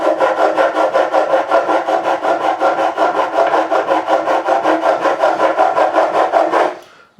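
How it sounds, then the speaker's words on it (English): Rapid rhythmic rasping of a file worked back and forth across the metal frets of a Harley Benton 35 Plus bass during a fret level, steady and close for about six and a half seconds before stopping abruptly. "We're just filing these two"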